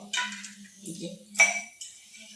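A metal pot of crushed spices is lifted off the stove, giving a few sharp clinks and scrapes of metal against metal in short bursts, with a brief murmur of voice underneath.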